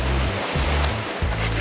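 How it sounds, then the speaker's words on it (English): Ocean waves washing onto a beach, a loud continuous rushing wash with low rumbling swells rising and falling, close to the microphone. "Here comes the water."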